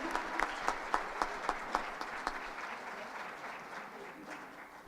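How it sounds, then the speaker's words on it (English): Applause from an audience for an elementary school performance at a board of education meeting, a steady wash of clapping with a few sharper claps early on, fading gradually toward the end. "Let's give them one more round of applause."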